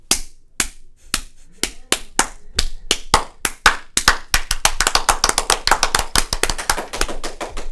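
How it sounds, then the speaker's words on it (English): A small group claps in a podcast studio, starting with a few scattered slaps that build into a fast, dense round of applause, close and loud, with no talking. "That's a poor clap. I know, I'm a worse clapper."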